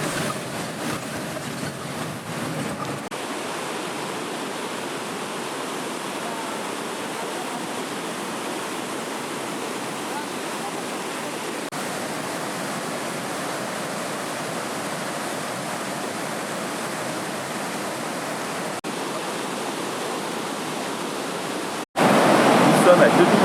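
Mountain torrent rushing beside a rough road in the Kyrgyz mountains near Karakol, heard as a steady, dense roar of water that runs loud and unbroken throughout, with a brief louder burst at the very end.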